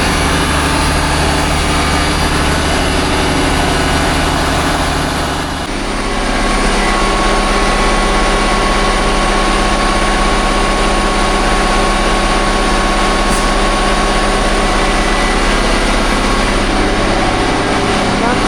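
Case IH Magnum 310 tractor engine running steadily at about 2000 rpm, a loud, continuous low drone that shifts slightly in tone partway through and holds constant, close by, with no talk.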